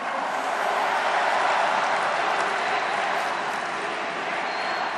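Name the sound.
applause for candidate Lee Jae-myung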